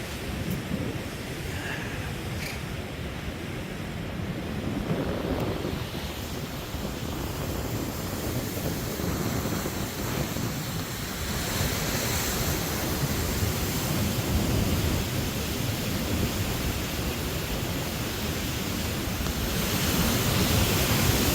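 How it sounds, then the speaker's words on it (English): Water spilling out of the southern gate of a lock on the Muskingum River in southeastern Ohio, a constant broadband rush like surf, fairly faint and steady, with some wind noise. "See a little bit of water spilling out"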